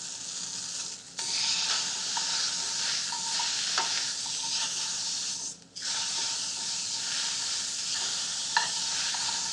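Tuna steak sears in a hot pan with a steady, broad sizzle and hiss, broken by a brief dip and a few small pops and scrapes, close and alone with no talk.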